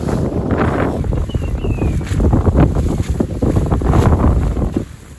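A reefed sailboat beating upwind: heavy gusting wind buffets the microphone over rushing, splashing water against the hull, loud and continuous, with a few surges before it eases near the end.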